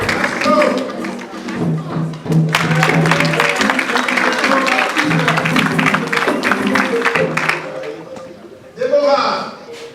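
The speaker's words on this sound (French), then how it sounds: "On applaudit pour Stéphane." Audience at a live music show applauds and claps, a steady wash of hand claps over music and voices for the whole stretch, swelling again near the end.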